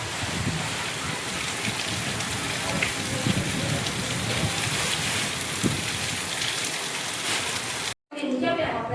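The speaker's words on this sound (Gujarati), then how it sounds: "આજે વરસાદ આવ્યો તે સારું" Steady rain pours down on surfaces outdoors, a dense continuous hiss close by that holds level throughout, with voices faintly beneath it.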